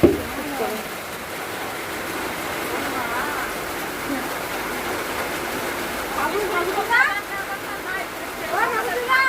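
Water runs steadily inside a room at home, a soft continuous rushing hiss heard under people talking nearby.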